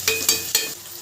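Stirring and frying chopped onions in a pan, with three scraping strokes over a steady soft sizzle, close and moderately loud.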